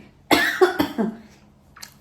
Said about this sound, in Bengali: ছোলা খাওয়ার পর থেকে শুধু কাশি আসতেছে